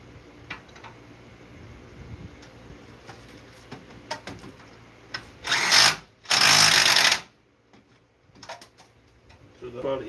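Power tool tightening the lower control arm on a 2013 Nissan Rogue during a front suspension replacement, two loud bursts of whirring and rattling among faint shop clatter and speech.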